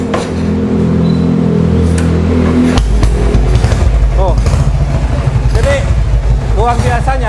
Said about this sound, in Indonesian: Om Dede coba tolong dinyalain supaya emang teman-teman semua tahu bahwa motor ini nyala.